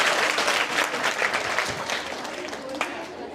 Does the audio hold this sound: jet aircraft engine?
no